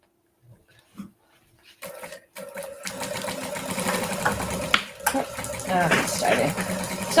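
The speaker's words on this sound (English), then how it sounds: "It's still winding onto the bobbin." A sewing machine winding thread onto its bobbin, a loud, steady motor whir that starts after a few quiet knocks and runs on close up, with a dog whimpering faintly and some brief talk nearby.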